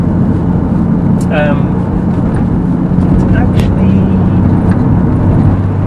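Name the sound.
Porsche 996 engine while driving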